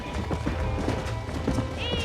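Horses in the Red Dead Redemption video game gallop with steady clip-clop hoofbeats and a brief high whinny near the end, heard close over a continuous layer of game ambience.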